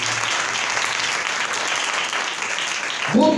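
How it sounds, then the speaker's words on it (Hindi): A church congregation bursts into steady, dense applause that holds at an even level throughout, broken at the very end by a brief voice cutting in. "जोरदार तालियां खुदावंद के लिए।"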